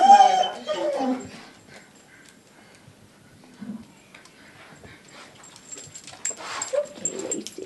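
A dog in an animal shelter kennel with guillotine doors whimpers and yips in short bursts, close by, mixed with handling noises and a person talking nearby.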